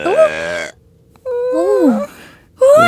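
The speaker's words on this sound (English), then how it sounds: "She's still burping." A cartoon character gives a few drawn-out, voiced burps in separate bursts, loud and close, with cartoon dialogue between them.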